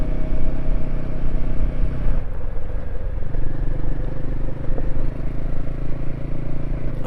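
A motorbike rides a dirt track through forest in the western United States. Its engine rumbles steadily and close by, with a brief dip in tone just after two seconds before it settles back into an even drone.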